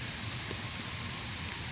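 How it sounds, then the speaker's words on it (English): Steady rain falls outdoors while walking around Woodstock, a continuous even hiss of drops with no talking. "It's starting to rain a little harder"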